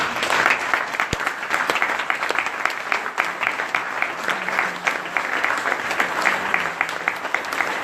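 A congregation applauds at a church crusade in Creil, with loud, continuous clapping close by that holds steady throughout.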